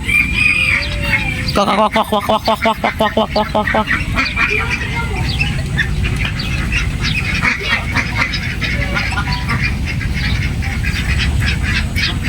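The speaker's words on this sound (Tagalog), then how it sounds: "Mallard duck." Mallard ducks quack in rapid repeated bursts alongside other fowl calls, including Philippine ducks, a rooster crowing somewhere, all over constant outdoor noise with people talking at a nature preserve.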